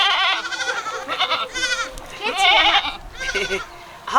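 A goat bleats in a series of wavering, nasal cries, close and fairly loud, with short pauses between calls in a village setting.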